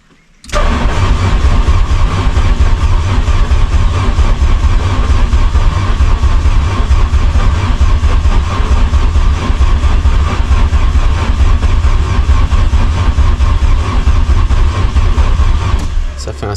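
A car engine runs continuously at a steady, loud idle with a harsh, rough noise, close by and unbroken for about fifteen seconds after starting.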